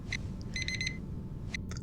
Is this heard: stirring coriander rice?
no